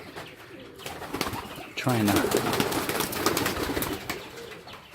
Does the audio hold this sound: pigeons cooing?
yes